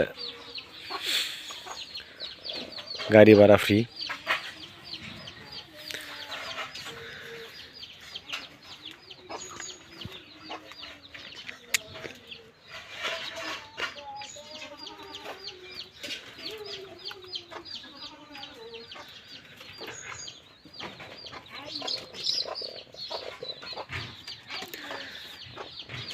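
Caged spotted doves and red turtle doves kept as hunting decoys give repeated soft calls at a moderate distance, while someone talks intermittently over them.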